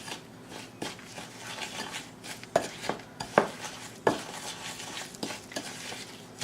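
Stirring a melted butter mixture in a bowl for pineapple upside-down muffins, irregular scraping and clinking of a utensil against the bowl, soft and close, with sharper taps here and there.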